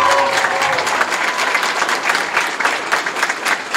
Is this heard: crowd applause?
yes